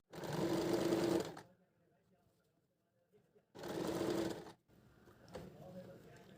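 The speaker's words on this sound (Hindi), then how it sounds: "हम यहाँ से इसको सिलना शुरू करेंगे।" A sewing machine stitches a collar in two fast, loud bursts of rapid whirring needle strokes separated by a quiet pause, with faint handling noises and low background sound after the second burst.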